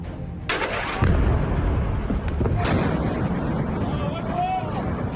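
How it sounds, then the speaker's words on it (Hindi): A heavy, rumbling blast from an Israeli missile strike in Iran rolls out and lingers amid wind buffeting the microphone, with further booming and voices murmuring in the background. "धमाके की आवाज सुनिए, ये इजरायली हमले की ही है"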